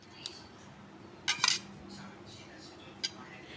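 Steel bowls handled in a home kitchen, a few light metallic clinks and taps, the loudest cluster mid-way and another near the end, faint and close over a quiet background.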